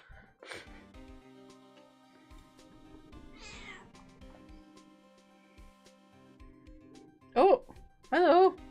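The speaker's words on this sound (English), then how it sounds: "She's been meowing for a while." A pet cat meows twice near the end, loud and close, after a stretch of quiet indoor room sounds with faint rustling and soft speech in the background.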